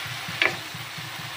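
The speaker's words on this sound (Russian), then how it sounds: "Вот, как я жарю грибы? Крупно нарезала на оливковом масле." Large-cut mushrooms fry in olive oil in a pan, a soft continuous sizzle with a faint rhythmic low stirring or scraping pattern and one brief sharper crackle, no talking.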